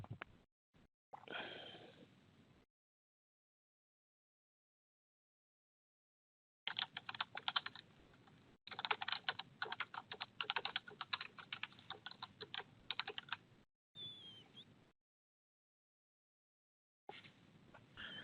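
Bursts of rapid computer keyboard typing, close and fairly quiet, coming in several stretches of clicking keys separated by silent pauses, with no one talking.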